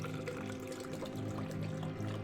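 Water pours steadily into a cup or shaker to mix a G Fuel drink, a continuous close splashing trickle with no talk.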